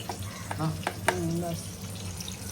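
Fish, freshly caught from a creek, sizzles as it fries in a pan, a steady crackle running throughout with a few brief louder pops and a faint voice tone briefly over it.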